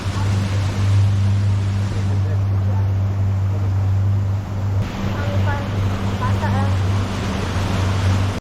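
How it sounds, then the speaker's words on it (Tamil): A tour boat motors along the Nile River, a steady low motor drone beneath rushing water and wind noise, continuous and fairly loud, with faint voices in the background. "அப்புறம் போட் கிளம்பிடுச்சு"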